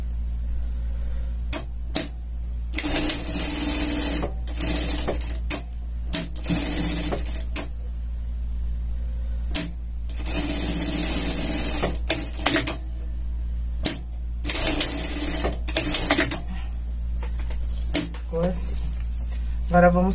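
A sewing machine stitches a scout costume in several bursts of rapid mechanical chatter separated by pauses, close and loud, with a low steady hum underneath.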